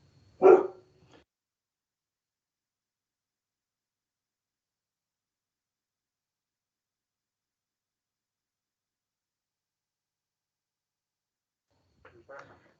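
A small female dog gives a short burst of barking at the start, near and fairly loud, then silence until a faint sound near the end.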